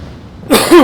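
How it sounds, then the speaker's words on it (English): A single sharp cough bursts out of near silence, loud and close, with a second rougher push right behind it, heard during World of Warships gameplay commentary. "sorry for the cough"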